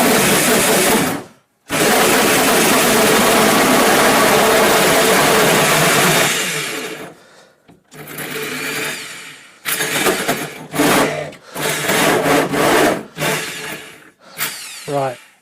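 A power drill bores through a door while installing a door handle passage set, whirring loudly and steadily up close, then running in several shorter bursts separated by brief pauses.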